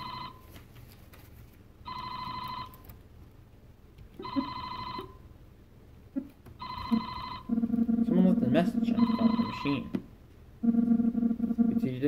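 Repeated electronic ring bursts from a telephone in the Famicom Detective Club video game pulse at a steady rhythm. Low buzzy game tones later overlap the final rings.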